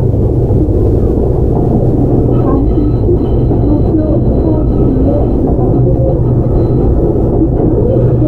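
A Tobu 100 series express train with Hitachi GTO drive runs steadily, a loud continuous rumble of wheels and motor with a faint whine, heard from inside the car without a break.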